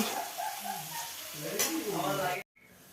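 Soybean chunks being stirred in a frying pan, a steady sizzle and scraping rustle throughout, with a brief cut near the end before the frying noise resumes more faintly.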